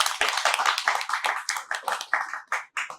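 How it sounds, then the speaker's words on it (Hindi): Quick, rhythmic clapping from an audience at a youth intellectual dialogue gathering, close and fairly loud, with the claps coming in regular bursts for about three seconds. "एक बार दोनों हाथों को जोड़ के जोरदार से तालियां बजा दीजिए"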